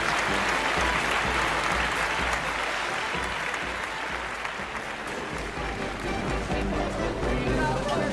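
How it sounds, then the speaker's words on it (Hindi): A circus audience applauds loudly and steadily after an animal act, the dense clapping filling the whole stretch, with crowd noise and voices mixed in. "जोरदार तालियां"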